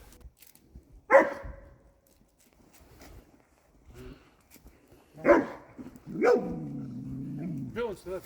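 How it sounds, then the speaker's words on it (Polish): A dog barks a few times at moderate distance, sharp isolated yelps spaced by quiet gaps, followed by a longer whining, drawn-out vocal sound near the end; no one talks. "Jakiekolwiek szczekanie w pensjonacie w ogóle nie wchodzi w grę."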